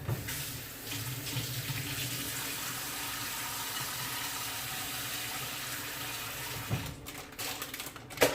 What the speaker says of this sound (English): Just gonna rinse it off.